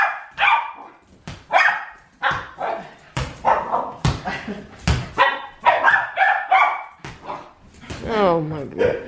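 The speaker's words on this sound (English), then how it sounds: "This is the only time she barks." A dog on an outdoor walk barks repeatedly in short, loud, close yips with a whimpering whine near the end, and the barks come in irregular bursts.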